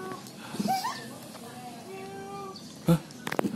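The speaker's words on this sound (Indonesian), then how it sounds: "Suara meong." A cat meows faintly a few times, with thin, rising mews half-buried under background chatter and sharp knocks.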